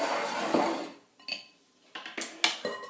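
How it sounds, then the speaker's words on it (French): Two bowls are taken out and set down on a kitchen counter during cheesecake preparation, giving a few sharp ceramic clinks and knocks after an opening rustle, fairly close and quiet. "Là, on va prendre 2 bols différents."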